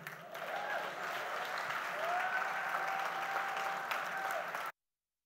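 Sustained applause from a teachers' conference audience after an inspiring speech, steady and fairly close, running several seconds before cutting off abruptly.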